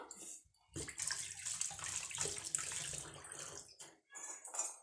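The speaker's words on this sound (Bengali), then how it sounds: "এই দিক থেকে আমি আমার হাতটা ধুয়ে নেব।" Hands are rinsed under a running kitchen tap, a steady splashing stream broken by short pauses, fairly quiet and close, with no talking.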